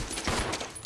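A short, close burst of gunfire in Resident Evil 0 HD Remaster, a quick volley of shots lasting about a second with no talk over it.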